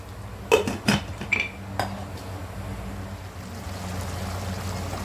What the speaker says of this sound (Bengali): 10 মিনিটের জন্য ঢাকনা দিয়ে ঢেকে দিব।